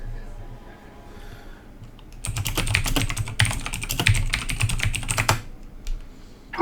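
Rapid clatter of typing on a computer keyboard, close and fairly loud, in dense bursts over a low steady hum, with a quieter stretch before the keys start.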